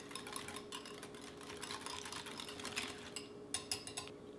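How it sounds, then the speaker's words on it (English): Whisk scraping and tapping in a bowl while green onion and fresh dill are stirred into ranch dressing, a quiet, quick and uneven clicking that grows a little sharper toward the end. "I'm going to whisk these in"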